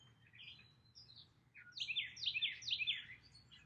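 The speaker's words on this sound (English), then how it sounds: "I hear birds chirping." Small birds chirping nearby in a quiet setting, a few soft calls followed by a quick run of three bright, repeated chirps.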